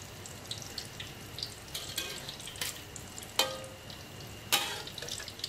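A crispy Thai pork omelet fries in hot oil over medium-high heat, giving a quiet, steady crackle broken by a few sharper pops and spatters.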